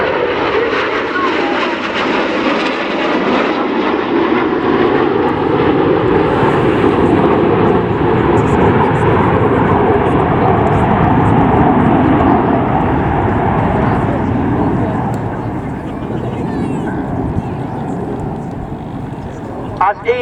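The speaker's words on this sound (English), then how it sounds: "Once again, you're looking for the aircraft of Hannah." Red Arrows display team jets roar overhead at the RAF Cosford Airshow, a loud, sustained engine rumble that swells and then fades over about twenty seconds, with a commentator speaking over it.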